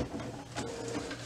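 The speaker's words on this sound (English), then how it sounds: "the printhead to kind of settle here and stop here in the middle" Printhead of an HP Photosmart 7520 printer sliding inside the open unit, a steady mechanical whir and rattle at low level with faint clicks.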